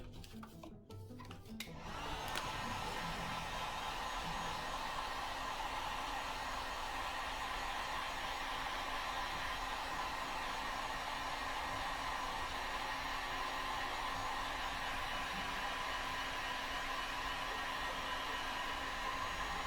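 Heat gun blowing hot air steadily while heating window tint film on a 2001 Spyder, a continuous loud whooshing hiss that starts after a brief handling noise and holds nearly unchanged to the end.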